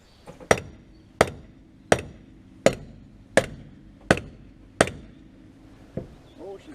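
Seven sharp metallic hammer blows ring out at a steady pace against a wheel on a derelict 1964 Ford Galaxie 500 as loosened nuts are worked free, each strike loud and close with a short decaying ring, followed by a softer final knock.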